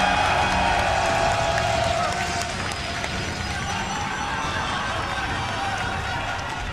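A large arena crowd at the IEM Toronto StarCraft 2 grand final roars and cheers continuously, with some clapping and whoops, while a caster talks over the steady wall of crowd noise.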